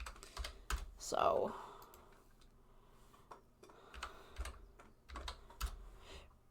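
Close, quiet keystrokes tap on a computer keyboard in short irregular bursts, with someone speaking briefly between them.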